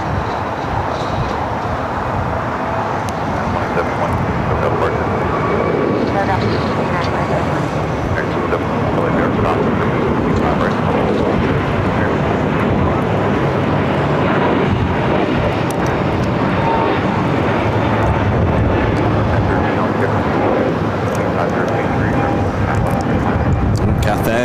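A United A321neo airliner roars through its takeoff run at LAX, a broad, steady jet rumble that stays loud from start to end.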